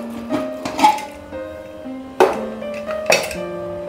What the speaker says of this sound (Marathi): बरोबर 15 मिनिटांनी मी कुकर उघडते।